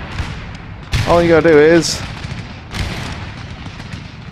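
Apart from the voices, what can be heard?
line infantry musket fire in Empire Total War video game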